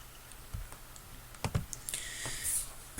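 Computer keyboard keys pressed while working in FreeCAD: a few sparse, irregular taps and clicks over a quiet room hiss, with a louder key press at the very end.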